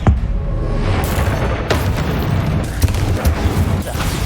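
Confringo spell explosions in the video game Hogwarts Legacy, loud heavy booms rolling one into another with sharp cracks on top, close and dense throughout.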